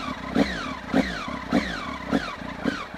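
A Triumph Speed Triple ABS motorcycle with aftermarket exhausts revs up close and loud in five rhythmic throttle blips, each surge rising and then dropping away.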